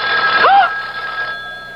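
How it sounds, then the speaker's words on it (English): A telephone bell rings loudly and close in a 1974 radio mystery drama sound effect, one sustained ring burst that cuts off partway, with no talk over it. "It's the phone."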